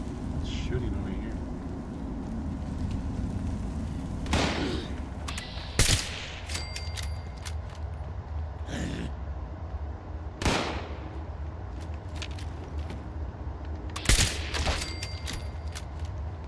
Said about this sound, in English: Here, gunshots.